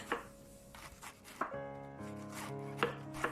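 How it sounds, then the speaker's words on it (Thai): A knife thinly slices lemongrass on a cutting board in a few sharp, spaced strokes, with a faint sustained tone humming underneath. "ตะไคร้ก็หั่นบางๆค่ะ"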